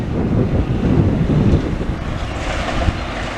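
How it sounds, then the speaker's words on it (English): Loud wind roars across the microphone on a windy street corner near a building demolition, continuous gusty surges, heavier at first and easing slightly toward the end. "I'm in a really windy corner now"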